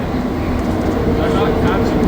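Montreal Metro AZUR train, set 42, riding between stations late at night: a steady, loud rumble and rolling roar that goes on without pause, with faint talk over it.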